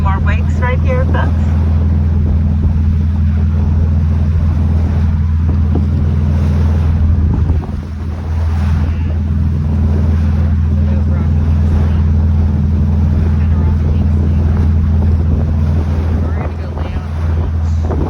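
A dolphin tour boat pushes across wakes on open water, a steady loud engine rumble with wind buffeting the microphone and water slapping, and a voice talks over it throughout.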